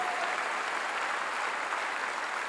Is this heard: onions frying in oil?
no